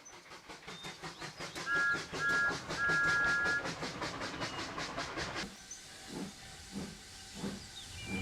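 A cartoon tank engine puffs into a station, with steady rhythmic chuffs and bursts of hissing steam, followed by softer, slower exhaust puffs as it slows to a stop.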